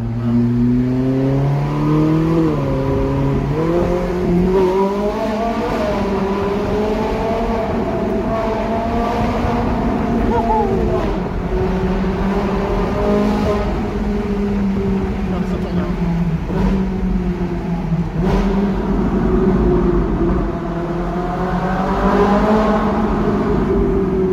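A Ferrari 458 with a naturally aspirated V8 and Capristo exhaust revs loud and close, its engine note climbing and dropping repeatedly as it accelerates through corners, with voices faintly underneath.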